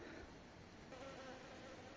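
A steady insect hum of many honeybees drones continuously at low volume from a hive, a dense buzzing swarm with no voices.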